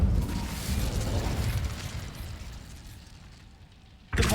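An Incendio fire spell is cast in Hogwarts Legacy, a deep, rumbling fiery burst that swells and slowly fades, ending in a sharp new impact.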